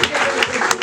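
Congregation applause fills a Christmas church service, a brief, dense burst of clapping with no speech over it.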